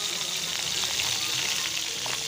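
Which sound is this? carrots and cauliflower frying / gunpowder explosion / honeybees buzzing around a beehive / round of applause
carrots and cauliflower frying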